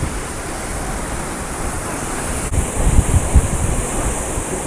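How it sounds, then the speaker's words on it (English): Heavy spray from a hidden waterfall in Goa, mist and water splashing close by as a steady, loud rushing wash with a few louder bursts of spatter partway through, no voices. "the water is just splashing on your face"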